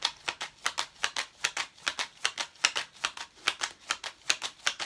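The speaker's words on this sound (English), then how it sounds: "It feels weird shuffling on camera." Tarot cards are shuffled by hand in a quick, regular rhythm of crisp riffling bursts, about four per second, close and clear with no talking.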